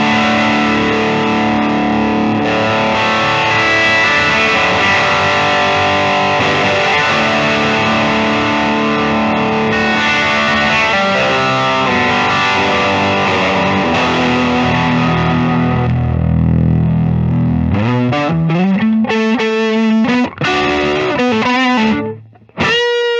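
A 1991 Gibson Custom Shop Firebird V electric guitar on its bridge pickup plays loud, distorted chords that ring on, then gives way to sharp, choppy picked notes and brief pauses near the end, with no talking.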